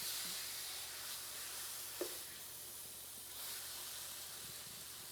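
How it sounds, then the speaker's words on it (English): Neutral oil poured into a smoking hot pan for Finnish pork steak gives a soft, steady sizzle and hiss throughout, fairly faint, with one small clink partway through. "Now that our pan is smoking hot, I'm just going to add some neutral oil,"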